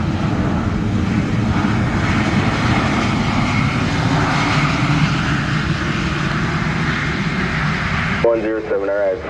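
A fixed-wing airliner takes off on runway 7 at Montego Bay, Jamaica, in rainy conditions, its loud steady engine roar filling the air throughout, with a radio voice cutting in near the end.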